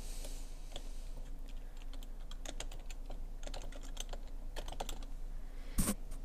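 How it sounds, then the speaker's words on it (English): Computer keyboard typing, quiet and close, with irregular bursts of key clicks spread across several seconds and a slightly louder clack near the end, no voices. "you're going to type in the name server, the first one, and then you're going to type in the next one."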